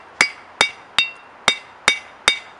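Hammer blows on hot steel while tapering a forged leaf into a point: six crisp, ringing metallic strikes at a steady, even rhythm, close and clear against a quiet background.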